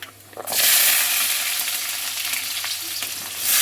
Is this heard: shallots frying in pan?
yes